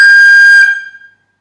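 A single high, sustained tin whistle note in the upper octave rings out clearly, then fades away over about a second with no voices.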